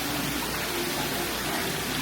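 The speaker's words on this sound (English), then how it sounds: "we've got all this beautiful water babbling and fountain-esque" Water babbling and splashing from a fountain at a mid-century tiki-themed motel, a steady, loud, broadband wash of falling water that stays constant throughout with no voices.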